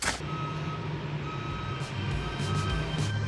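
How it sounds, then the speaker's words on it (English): Concrete truck backing up at a farm irrigation site, its reverse alarm beeping in a steady repeating series over the rumble of the heavy engine. "Concrete truck's here, so we'll get this thrust block poured"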